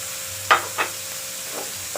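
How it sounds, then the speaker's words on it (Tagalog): Garlic being sautéed in a pan for bitter melon stir-fry, faint steady sizzle with two or three brief stirring scrapes, close and quiet, no talking. "sipate na natin yung garlic"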